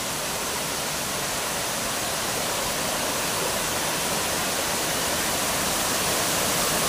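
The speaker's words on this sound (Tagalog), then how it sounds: "Ang ganda ng falls." Bantakay Falls in Sta. Catalina, a loud continuous roar of falling water that fills the whole scene, steady and close, with no other sounds standing out.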